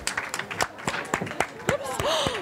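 An audience claps for the speakers after a talk on gender and self-confidence, giving scattered, uneven applause of moderate loudness with voices talking over it.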